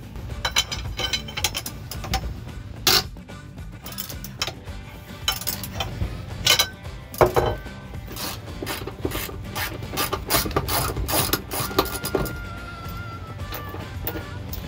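A ratchet or breaker bar removes a T45 tailgate bolt on a Jeep Wrangler TJ, close-up irregular ratcheting clicks and metal rasping in bursts, with brief talk in between.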